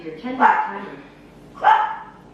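Dog barking twice indoors in a kitchen, two loud close woofs about a second apart, with a voice also present.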